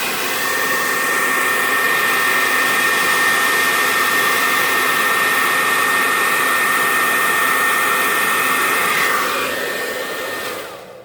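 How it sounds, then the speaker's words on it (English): A hair dryer blows loudly and steadily, a constant close rushing whir that cuts off near the end, with no talking. "she does not like the hair dryer"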